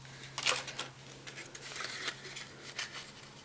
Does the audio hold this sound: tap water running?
no